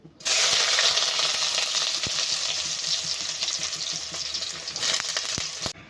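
Chopped onions dropped into hot oil in a pan while making noodles, giving a steady loud sizzle and crackle throughout with a few sharp pops and a brief stir near the end.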